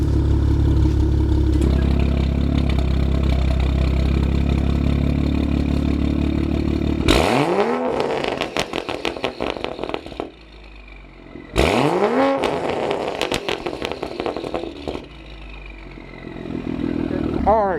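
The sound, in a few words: BMW F30 turbo engine revving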